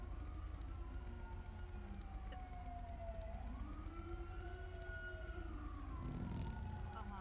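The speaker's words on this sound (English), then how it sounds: "I do love my sirens." A police car siren from a video game wails in long rising and falling sweeps, steady and moderately close, with no talking over it.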